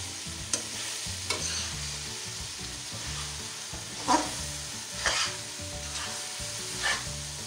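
Okra stirred into fried masala in a pan, steady sizzling and frying with scraping stir strokes at intervals, close and clear with no talking.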